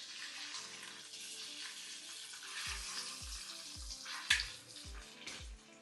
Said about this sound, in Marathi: आता ह्याच्यात अंडी टाकायची ही.